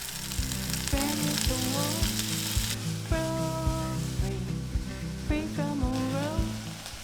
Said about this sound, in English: I'm using coconut oil today and into that I'm adding mustard seeds, curry leaves and green chilies.